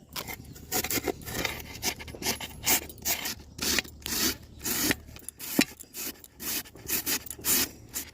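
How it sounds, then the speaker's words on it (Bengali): A raw potato is rubbed against a hand grater in a home kitchen, giving rhythmic rasping strokes, close and crisp, repeated in quick succession with short pauses between. "প্রথমে কিন্তু আলুটাকে ঘষে নেব"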